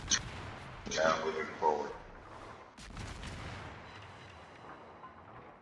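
Ship guns boom in a naval video game battle against a destroyer, with a couple of heavy blasts and rumbling echoes. Someone commentates over the gunfire.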